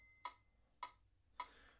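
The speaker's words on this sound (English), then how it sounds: "So I'm going to use my metronome to do that." A metronome ticks three times at an even, moderate pace, crisp and quiet clicks alone, used for vibrato practice.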